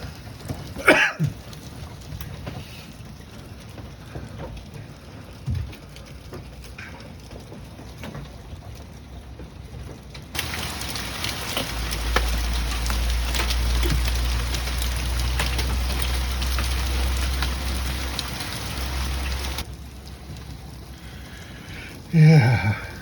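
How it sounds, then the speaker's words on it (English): A hailstorm with heavy rain in Batavia, Illinois: a steady hiss of rain and hail hitting the ground that swells into a louder, denser roar midway, then eases back, with occasional close handling noises. "This is what a hailstorm in Illinois looks like."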